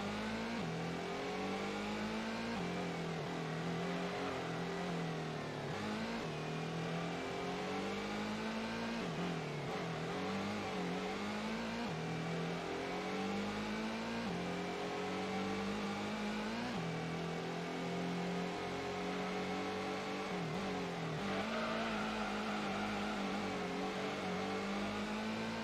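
Race car engine in the Gran Turismo video game, held loud and continuous through a power slide, with the pitch rising and falling as the revs climb and drop over the whole stretch, no voices present.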